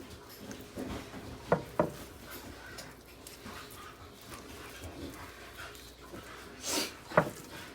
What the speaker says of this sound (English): Excuse the noise, everyone. Our dog is just playing.